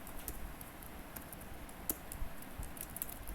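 Quick, light keystrokes patter on a computer keyboard as code is typed, a soft, irregular stream of close clicks with no talking.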